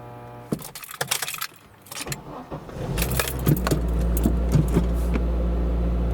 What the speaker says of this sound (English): Let's try to start the vehicle.